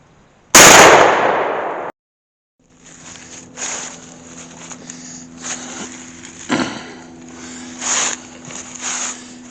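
A shotgun loaded with number 6 shot fires once at a patterning target, a single sharp, loud blast that cuts off abruptly, followed by quiet outdoor ambience with faint insect buzzing and small knocks.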